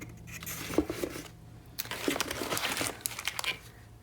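Card kit package being opened and unwrapped, with crinkling plastic and paper rustles, close and moderately loud, in irregular bursts.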